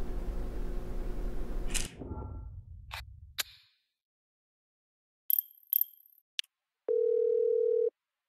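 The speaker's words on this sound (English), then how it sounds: "Incoming call, Mrs. Wong." A cell phone in The Bridge Curse 2 horror game gives a steady electronic ringing tone lasting about a second near the end, after a few sharp clicks and beeps, with a fading rumble at the start.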